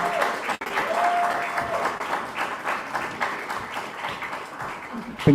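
Attendees at a pitch competition awards moment applaud a winner, a full round of crowd clapping with voices mixed in that continues steadily, with a brief dip and a louder knock near the end.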